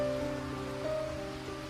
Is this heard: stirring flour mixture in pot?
no